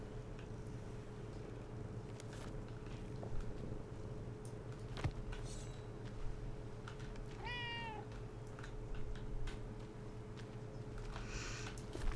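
In Sea of Thieves, a cat's low continuous purr hums beneath soft game ambience while a single clear, rising-then-falling meow sounds partway through, with occasional light taps and patters nearby.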